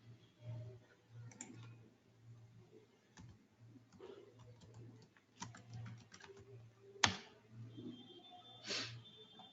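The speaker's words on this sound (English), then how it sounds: "let me type the password" Soft key clicks from a computer keyboard as a password is typed, scattered and quiet over a low steady hum, with a couple of sharper taps standing out.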